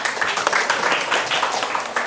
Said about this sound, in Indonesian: Boleh kasih tepuk tangan dulu.